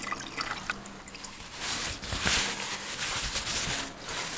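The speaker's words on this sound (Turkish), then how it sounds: "Şöyle elimizle biraz bastıralım. Suyu birazcık süzülsün." Whey draining from homemade cheese pressed by hand, wet trickling and dripping close by, the splattering swelling in the middle before easing off, with no talking.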